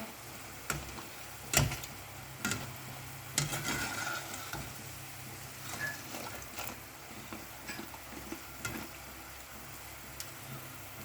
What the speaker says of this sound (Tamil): நல்லா கிறிஸ்பி ஆகிற வரைக்கும் அந்த பொரிச்சுக்குங்க.